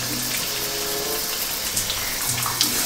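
Kitchen tap running steadily while being tested to see if the water warms up, a continuous close rushing hiss with faint clinks near the end.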